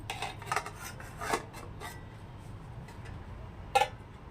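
Lid of a plastic-handled non-stick pan handled in a kitchen, giving a few light metallic clinks and taps near the start and a sharper clack near the end, over a steady low hum.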